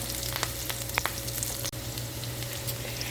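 Diced potatoes sizzle in a hot pan, a steady close crackling fry that runs evenly through the whole stretch with no voices.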